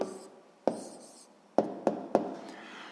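A pen writes an answer on paper during a sixth-grade maths exercise, several sharp taps and short scratching strokes in an uneven rhythm, close and quiet, with no talking.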